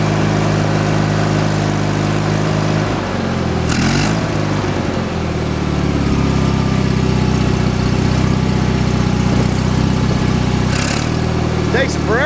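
A riding lawn mower engine runs steadily and loudly for the whole stretch, with a constant low mechanical drone and slight shifts in pitch.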